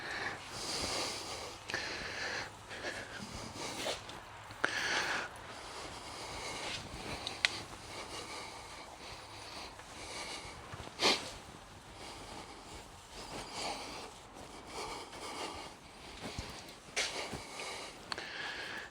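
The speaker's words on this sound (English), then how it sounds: "So ignore my panting like a dog." Heavy, rapid panting breaths repeat close up, with snorty exhales and occasional sniffs, fairly quiet and steady.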